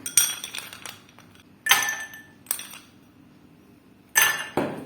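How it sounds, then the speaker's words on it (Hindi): Ice cubes drop into a glass in a few sharp, clinking bursts, close and bright, with quiet pauses between, and no talking. "अब मैं एक ग्लास लूंगी और इसके अंदर मैं आइस क्यूब्स डाल दूंगी।"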